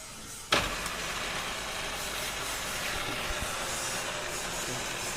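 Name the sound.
milling machine motor running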